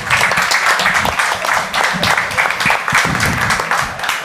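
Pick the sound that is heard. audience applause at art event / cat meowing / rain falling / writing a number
audience applause at art event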